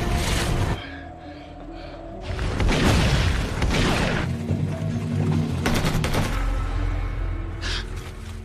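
Gunfire in a fierce film battle plays as dense, loud bursts and booms layered over a continuous roar of action soundtrack, building after a brief lull and staying intense throughout.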